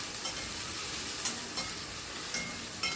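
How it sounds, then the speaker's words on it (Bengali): Grated raw green mango being stirred into an egg curry in a pan, with a steady soft sizzle of frying and a few sharp scrapes of the spatula; no voices. "এই অবস্থায় দিয়ে দিলাম গ্রেট করে রাখা আমগুলো, দিয়ে আবারও সব কিছু ভালো করে মিশিয়ে নিচ্ছি।"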